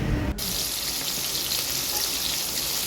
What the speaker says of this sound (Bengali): এখন মাছ ভাজা চলছে।